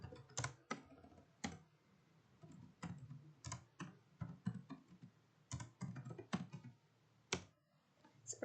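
Git commands being typed on a computer keyboard, a close run of quick irregular key clacks in bursts with short pauses, quiet overall.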